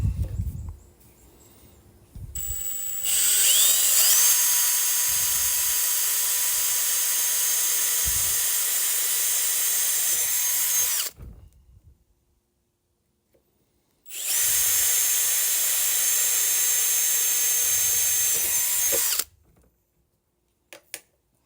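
A power drill bores holes into a patio swivel rocker in two long, loud, steady whirring bursts, separated by a short silence, with brief handling knocks before the first run.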